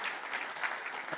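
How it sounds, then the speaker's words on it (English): Audience at a keynote address applauds steadily, a dense wash of clapping throughout the short stretch with no talk over it. "Give him a round of applause."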